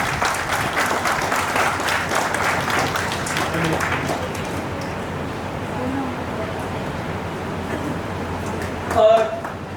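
Audience clapping at a book launch event, a loud burst of applause fading after about four seconds into murmuring room noise, with a brief clatter near the end.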